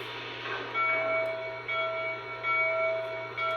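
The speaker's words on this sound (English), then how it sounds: "Typical bell, you can change the pitch of that bell" A train locomotive's bell rings in a steady, repeating pattern, with each clear metallic strike ringing out at regular intervals over a constant low idling hum.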